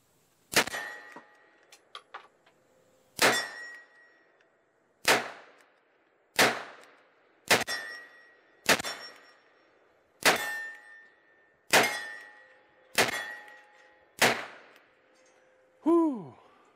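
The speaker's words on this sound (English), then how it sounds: "Let's bring it back to 20 yards and do these round gongs here." Pistol shots at steel round gongs from 20 yards, ten sharp cracks spaced about one to two seconds apart, each followed by a ringing metallic ping that fades, the last with a bending tone.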